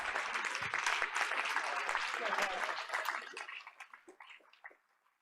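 Audience applause at a board of education meeting, a dense burst of clapping from a crowd that holds steady before thinning into scattered claps and fading out.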